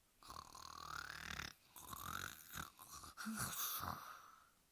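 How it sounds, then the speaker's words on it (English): Loud, rasping snores rising and falling in a few long breaths, close by, with brief pauses between them. "both queens were fast asleep and snoring loud."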